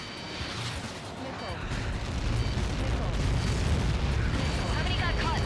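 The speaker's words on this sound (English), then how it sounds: "How many got caught in that explosion?" Missile impact explosion in Ace Combat 7: Skies Unknown, a heavy rolling roar and rumble that swells and holds, loud and sustained, with radio voices talking over it.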